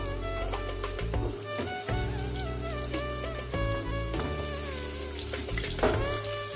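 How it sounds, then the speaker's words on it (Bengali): Potato pieces drop into very hot oil seasoned with turmeric and salt for a spicy katla fish curry, giving a loud, continuous close-up sizzle with crackling pops and occasional stirring. "তেল প্রচণ্ড গরম এবার দিয়ে দিলাম আপনার আলু"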